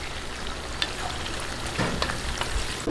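Whole peppercorns, bay leaves and turmeric sizzle steadily as they are stirred in a hot cooking pan, with soft scraping over the constant frying hiss.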